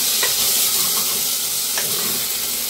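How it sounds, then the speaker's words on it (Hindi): Vegetables sauté in a hot pan for sambhar, a close, steady sizzle and hiss with a few scraping stirs, alone without talk. "सारी सब्जियों को 2 मिनट तक हमने अच्छे से भून लिया है"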